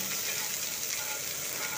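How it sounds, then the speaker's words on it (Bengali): Green and red chilies splutter and sizzle in hot oil in a pan, a dense, steady crackling hiss that runs loud and unbroken, close by, with no talking over it. "তারপর কাঁচা আর পাকা লঙ্কা দিয়ে দিলাম, ফাটিয়ে নিতে হবে অবশ্যই"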